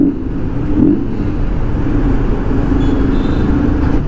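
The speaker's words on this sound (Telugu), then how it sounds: "చాలా ఉంది ట్రాఫిక్" Evening rush-hour traffic crawls along a Bengaluru flyover, with a steady wash of car and bus engines and road rumble heard close from a slow-moving motorcycle.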